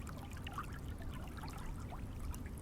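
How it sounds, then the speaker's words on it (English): A small stream trickles and pours steadily over rocks near a spring, a soft, continuous watery wash with faint bubbling detail, heard alone with no voices. "we can start to hear water. There's a water source."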